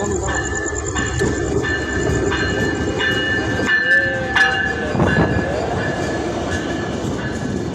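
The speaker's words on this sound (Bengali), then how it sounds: "এই যে ট্রেন চলে আইছে প্রায় কাছাকাছি চলে আইছে ট্রেন" A train arrives at Narail railway station at night with a continuous heavy rumble and rattling clatter of wagons passing close by, sharp squeals and clanks cutting through the steady roar.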